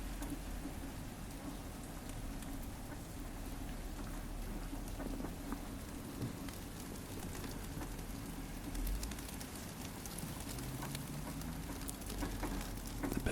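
Steady, dense rain drums on a car while driving from the bush to the coast in winter, a constant close patter and wash over low road rumble throughout, with no talking.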